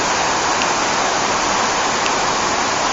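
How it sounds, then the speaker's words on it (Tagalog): Water leaking out of a cave spills as a small waterfall near a dam, a steady, dense splashing hiss that stays loud and even throughout with no voices. "Kuweba na tumatagas ang sand tubig para tuloy siyang isang wat maliit na waterfalls."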